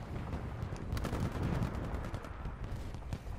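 Continuous gunfire from the video game Titanfall 2, a dense steady rattle of rapid shots and impacts holding at a constant loudness without pauses for the whole stretch.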